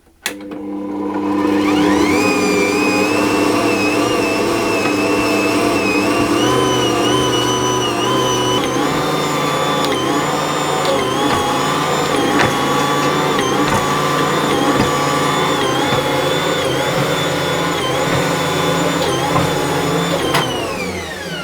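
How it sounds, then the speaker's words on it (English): An Ankarsrum stand mixer kneads cinnamon bun dough with a steady, loud motor whir and a hum that holds its pitch throughout, the tone shifting slightly partway as the dough works, with a faint rhythmic knocking underneath. "I'm going to knead that for 5 or 6 minutes until it's all nice and soft and smooth"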